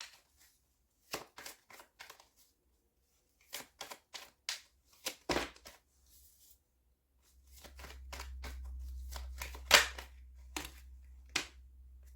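Tarot cards being handled and shuffled for a reading, a series of sharp close slaps and riffles in irregular bursts over faint background hum.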